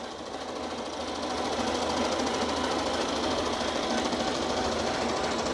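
A Shark AV2800ZE robot vacuum and mop combo runs at low RPM, a steady low mechanical whir with a faint rattling buzz at moderate level, a small motor humming along without pause.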